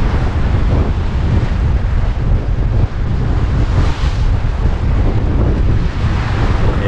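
Strong wind buffets the microphone while waves wash steadily around a sailboat off Jersey, with wind blowing against the tidal current; a loud, continuous roar with no talk.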